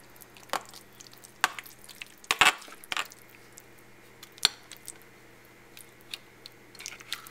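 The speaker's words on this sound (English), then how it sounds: "And mix this up until there are no more lumps in there left." Rum being stirred into a cooked chiffon pumpkin pie mixture in a bowl. Soft wet squishes come in scattered bursts, with a few sharper utensil clinks against the bowl, close and quiet.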